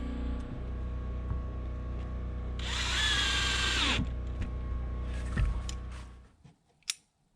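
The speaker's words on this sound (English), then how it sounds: "I'll go outside, put more screws in, hold it into the frame." A cordless power drill drives screws into a wooden window frame on an off-grid cabin, one loud whirring burst of about a second and a half over a steady hum, then a few clicks and knocks.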